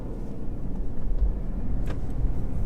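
A 2021 Chevrolet Camaro ZL1 1LE cruising in touring mode on cold tires, its engine a steady, subdued low rumble with road noise, fairly quiet and even throughout, no voices.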